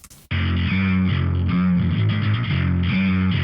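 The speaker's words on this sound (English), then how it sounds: "we're using this like a distortion pedal and very much focused on the high mid-range" Electric guitar run through a distortion plugin, focused on the high mid-range, plays a heavily distorted, chugging modern metal riff, loud and saturated, starting abruptly after a brief moment of quiet.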